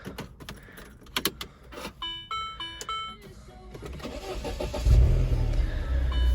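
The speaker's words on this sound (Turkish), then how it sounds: "Ve arabamız çalıştı." Clicks and electronic chimes come first, then a car engine cranks and catches, settling into a loud, steady running rumble.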